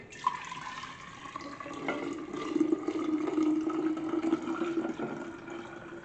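Homemade almond milk pours steadily into a half-gallon jar, a continuous close liquid stream that rises and settles in pitch as the jar fills, with no talking.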